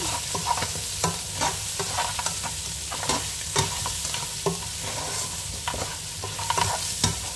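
Meat fries with spices in a pan while a utensil stirs it, giving a continuous close sizzle broken by frequent scraping and clacking strokes.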